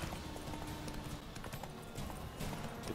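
Horse hooves clip-clop steadily along a dirt trail in The Witcher 3: Wild Hunt, a quiet regular trotting rhythm set against outdoor game ambience.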